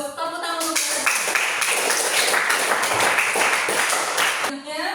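A school class applauds after a presentation on stop bullying, a burst of clapping starting about a second in and lasting several seconds, bracketed by a voice speaking before and after.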